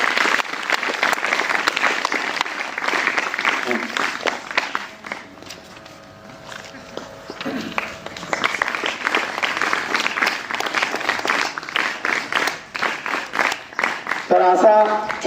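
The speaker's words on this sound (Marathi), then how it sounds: "सर्वांनी ती टाळ्या वाजून त्याचं जोरात स्वागत करत आहे" A school crowd applauds to welcome students at an award ceremony, with a broad clatter of clapping that swells, dips midway, then rises again, while voices talk over it.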